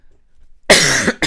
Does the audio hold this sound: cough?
yes